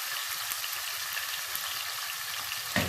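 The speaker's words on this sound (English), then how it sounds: "So we put our beef in the oil." Beef sizzling as it fries in hot oil for a brown beef stew, a steady crackling hiss with small pops and a brief clatter near the end.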